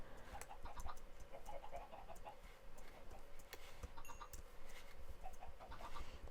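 Chickens clucking in Minecraft, a steady run of short clucks and chatter from several birds at moderate level, with no talking over them.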